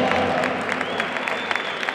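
Audience applause at a full contact kickboxing final fills the hall as a steady, dense wash of clapping, with a faint voice over it.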